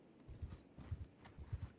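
Cavalry horses in the medieval battle game Mount & Blade II Bannerlord give off a faint, muffled rhythmic clip-clop of hooves, several quick low thuds in loose bursts.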